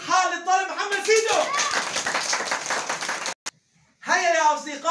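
Young pupils at Al-Bashir institute clap for a classmate during an Arabic letter-writing lesson, a dense burst of quick clapping for about two seconds between stretches of someone speaking, then a short tap and silence.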